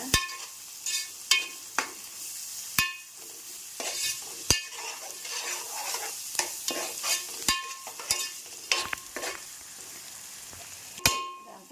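Onions and eggs fry in a pan for an Andhra-style curry while a spoon stirs, giving a soft continuous sizzle broken by repeated sharp scrapes and taps of the utensil against the pan.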